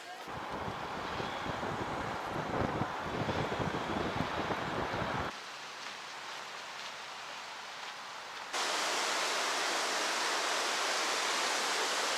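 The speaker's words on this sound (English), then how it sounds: "this may be a waterfall, one of many, several, countless you'll find in Yellowstone" A waterfall in Yellowstone National Park gives off a steady, loud rushing roar of falling water that changes character twice as the listening position shifts, ending in a bright, even hiss.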